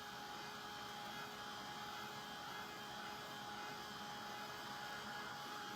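A hair dryer blows steadily to dry paint on a Dollar Tree frame, giving a constant, even whir with a faint tonal whine that runs unbroken throughout.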